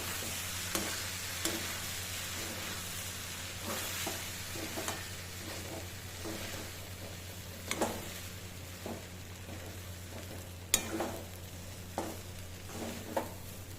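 Cooked long-grain jeera rice is stirred in a hot pan: a soft, continuous sizzle runs under repeated, irregular scraping strokes of the spoon throughout.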